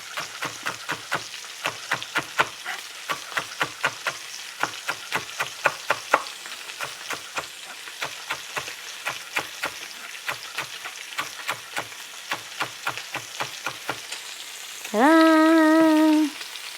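Chopped onion chives fry in a pan with dense, crackling sizzles and rapid popping throughout. Near the end a loud, sustained electronic beep sounds.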